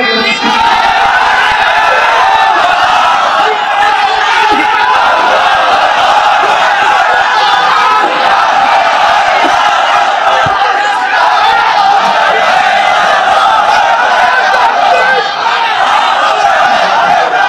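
A crowd at a religious gathering chanting takbir together, loud sustained massed shouting that fills the whole stretch without a break.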